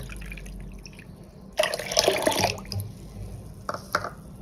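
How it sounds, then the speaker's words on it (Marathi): Water poured into semolina in a pot, soft splashing and trickling bursts in a quiet kitchen, with a stronger gush in the middle and a few drips and knocks afterward. "रव्यात दोन कप पाणी घालायचं"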